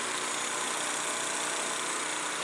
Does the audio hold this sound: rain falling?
no